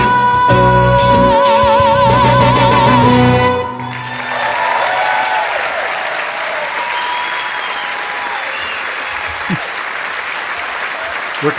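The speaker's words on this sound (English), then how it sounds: "We're clapping too." Applause erupts from a theatre audience as a James Bond concert song ends: sustained music with held notes cuts off, then a broad, steady wash of clapping continues, loud and full, with a few cheers rising through it.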